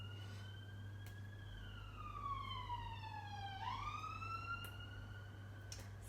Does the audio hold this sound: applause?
no